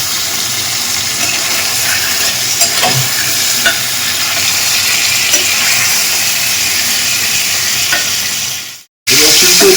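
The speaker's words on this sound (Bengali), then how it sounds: "পরে যে চর্বির লেয়ারগুলো আছে সেগুলো একটু হালকা ফ্রাই করে যখন সামান্য একটু কালার চলে আসবে" Pork fat layers fry in a pan, giving a loud, continuous sizzle and crackle with faint stirring, which cuts off abruptly near the end and then briefly resumes.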